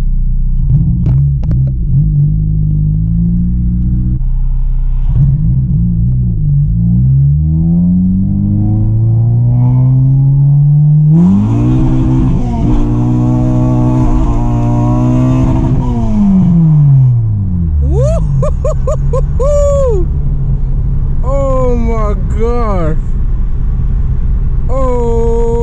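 An all-motor Honda Civic Si accelerating hard through first and second gear, a loud close engine roar climbing in pitch with each gear, dropping at the shift, then rising again into high revving whines.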